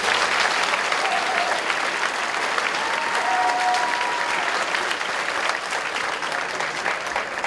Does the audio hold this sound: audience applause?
yes